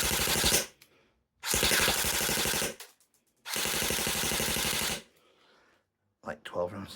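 A CYMA CM.127 airsoft electric pistol fires BBs in three rapid full-auto bursts of about a second each, a loud buzzing rattle of individual shots at roughly 12 per second, separated by short silences, with some handling noise at the end.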